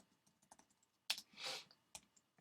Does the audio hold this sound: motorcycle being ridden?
no